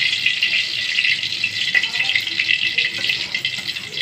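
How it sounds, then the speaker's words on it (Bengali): Dried chilies frying in hot oil, a steady close crackling sizzle with dense hiss throughout and faint clatter underneath. "আগে তেল দিলাম, তারপরে শুকনো মরিচ দিলাম। শুকনো মরিচগুলো ভাজতে নিই।"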